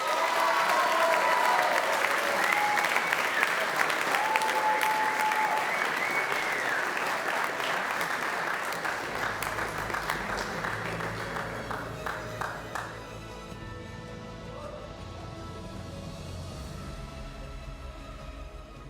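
An awards-ceremony crowd applauds a tennis player, dense clapping carrying on strongly before gradually thinning and trailing off, with room echo and faint voices under it.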